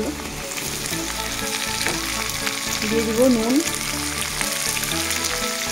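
Jackfruit pieces and potatoes fry in oil in a kadai for a vegetarian jackfruit kalia, giving a steady, close sizzle with a brief bright stir or scrape partway through and faint talk underneath.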